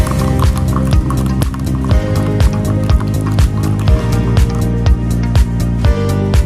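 A spoon stirs coffee in a cup, its metal clinking against the rim in a quick, regular rhythm of bright, ringing taps, close and fairly loud, with no voices.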